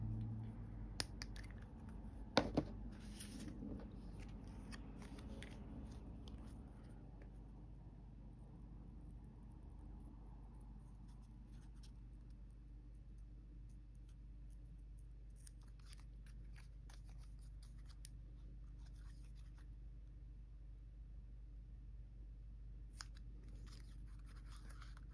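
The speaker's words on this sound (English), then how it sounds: "I'll probably switch to scissors now." Scissors snip a few times near the start, close and crisp, cutting out sections of a miniature apartment model; then a quiet low hum continues with faint rustling and an occasional later snip.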